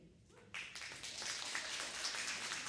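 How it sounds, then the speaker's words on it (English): Audience applause for a panel at a Seattle Colleges government event: faint, steady clapping from a room of people that starts suddenly and holds evenly throughout. "Another round of applause for our panelists."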